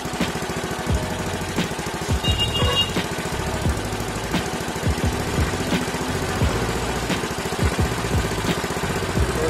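A Mio Sporty motorcycle engine, rigged with a full-wave charging setup, idles steadily up close with a rhythmic, slightly knocking mid-pitched putter and small revving bumps, with no talking.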